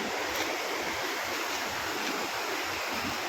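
Continuous rushing roar of flowing water at Karinkappara waterfall, broad and steady, loud and unbroken with no voices.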